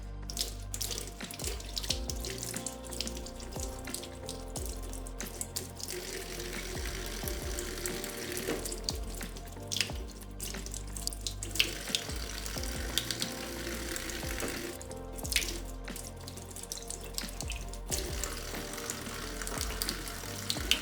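LifeSaver Wayfarer water filter parts rinsed under a running tap, a continuous close splashing stream into a sink with shifting gurgles and small clatters of handled plastic, no voices.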